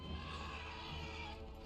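A horse neighs in the Total War: Warhammer game, amid an Empire army with armoured cavalry, a steady whinny held over continuous game ambience for under two seconds.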